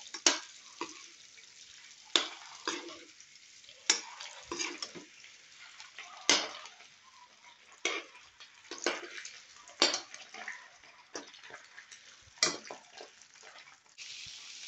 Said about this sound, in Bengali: আলুটার একটু তেলের উপরে ভাজতেছি